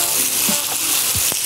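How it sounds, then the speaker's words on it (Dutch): Salmon fillet frying in a pan, a loud close sizzle hissing steadily throughout, with a couple of soft knocks and scrapes from the pan. "En dan laat je de andere kant nog heel kort even bakken."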